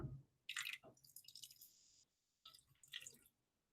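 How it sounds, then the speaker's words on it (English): Water is poured into a plant pot, heard as a few short splashing, dripping bursts close by with a brief pause between them, quiet and without talk. "Pour some of the water in."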